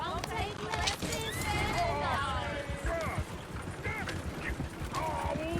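Horses neighing and whinnying with clopping hooves in the video game Red Dead Redemption 2, busy and continuous, with voices talking over the commotion.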